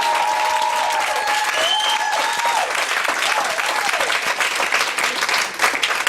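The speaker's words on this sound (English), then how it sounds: "Y'all clap it up for him." A comedy show audience breaks into loud, sustained applause filling the room, with whoops and voices rising through the clapping.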